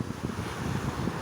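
Wind buffets the microphone at a beach as big waves roll in, a steady low rumble of surf and gusts with no voices.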